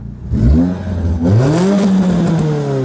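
A heavy car converted to run on gas revs through its exhaust, the engine note climbing and dropping in two strong pulls, close and loud with no voices.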